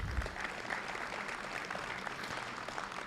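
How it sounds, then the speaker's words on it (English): Steady applause from a large audience at an association membership meeting during a national goat show, continuous and fairly even for several seconds with no clear speech over it. "Please give them a round of applause"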